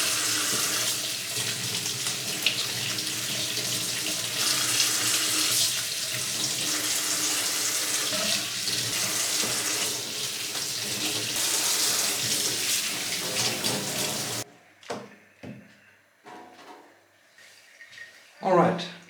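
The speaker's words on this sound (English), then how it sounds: "I am going to start with washing and cleaning all the vegetables" Tap water runs steadily into a kitchen sink while vegetables are washed, a dense continuous splashing rush that stops abruptly, followed by a few scattered clunks and knocks from handling the produce.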